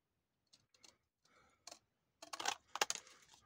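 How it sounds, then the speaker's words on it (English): Scissors cut through a paper label for a handmade junk journal: a few soft, scattered snips at first, then a denser run of crisp, close crunching cuts toward the end, with no voices. "Now I'm going to be very brave and cut this with my scissors."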